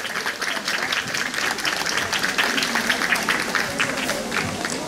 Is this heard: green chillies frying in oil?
no